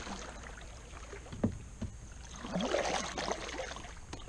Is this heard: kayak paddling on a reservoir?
yes